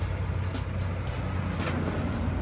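A Caterpillar 305CSR 5-ton offset-boom excavator idles with its engine and hydraulic pump running, a steady, close, low rumbling drone with a few faint hissing bursts over it.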